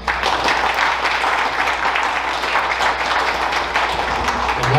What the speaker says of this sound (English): let's give Farrah a round of applause